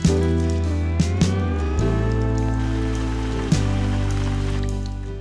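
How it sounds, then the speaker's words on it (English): Hard rain drums steadily on a surface nearby, a dense, continuous patter with a few sharper drops knocking through it, with no voices. "It rains hard, but it's not cold, it's not windy."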